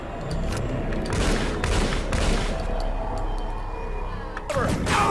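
Gunfire in the shooter game TimeShift, a rapid string of loud sharp shots and bursts under voices, with a final heavy crack near the end.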